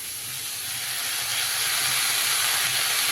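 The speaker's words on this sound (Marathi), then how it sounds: "आता आपण थोडंसं पाण्याचा हापका मारूया" Water splashed into a hot pan of raw papaya curry gives a loud, steady hiss that swells slightly and carries on throughout, close and alone with no talk.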